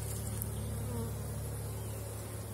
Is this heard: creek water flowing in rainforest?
no